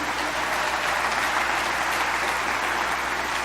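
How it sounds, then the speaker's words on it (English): Steady, dense audience applause fills a convocation ceremony hall, continuous and fairly loud throughout with no pauses. "hold for applause was in the script, so thank you for following the script with that"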